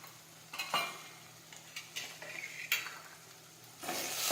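Turmeric and cumin sauté in a pan with soft sizzling while a utensil stirs and scrapes intermittently, producing quiet, irregular clinks and scrapes with no talking.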